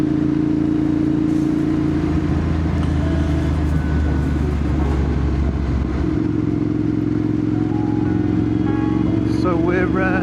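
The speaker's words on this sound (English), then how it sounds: "let's get on the bike and get going" A motorcycle ridden along a road, its engine holding a loud, steady drone with a shift in pitch midway, heard up close and continuously, with a voice talking over it.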